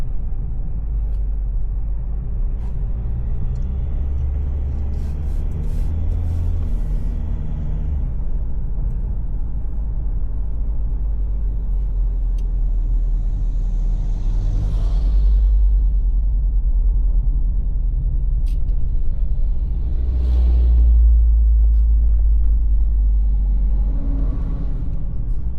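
Big trucks rumble along a damaged road in Philippine traffic, a heavy low engine drone throughout with swells of passing vehicles and occasional hissing bursts like air brakes.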